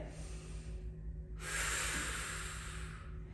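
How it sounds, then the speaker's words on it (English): A single strong, breathy exhale during a Pilates floor exercise, close and fairly soft, a sharp rush of air that trails off over a quiet, steady background hum. "Strong exhale."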